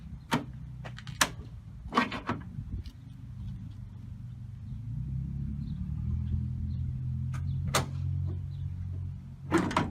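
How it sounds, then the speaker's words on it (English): Several sharp metallic clicks and clunks of the aero door latches on a Superlite SL-C being worked, close by, with a low rumble and shuffling in between. "Do the aero latches on both sides."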